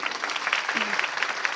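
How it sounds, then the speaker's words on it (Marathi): An audience applauding at a devotional talk about the Pandharpur wari pilgrimage, dense steady clapping from a large crowd, with a faint voice underneath. "टाळ्या वाजवा ना जोरदार"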